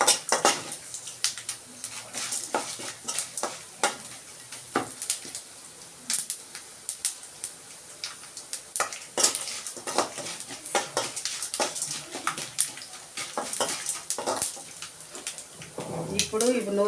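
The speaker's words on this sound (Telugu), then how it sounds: "తాలింపు బాగా వేగుతుందండి, మంచి వాసన వస్తుంది." Tempering sizzles and spatters in a hot pan for a ridge gourd peel chutney, with steady crackling hiss and repeated scraping clinks of a spoon stirring, close by and continuous throughout.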